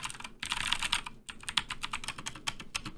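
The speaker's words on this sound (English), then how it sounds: "This is a Keychron K4A2 with blue switches" Clacky, rapid keystrokes from a Keychron K4A2 mechanical keyboard fitted with blue switches, typed close up in quick uneven bursts with a short pause near the start, alone without talk.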